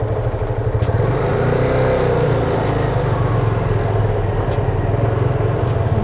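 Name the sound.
motorcycle accelerating, then closing throttle and braking with clutch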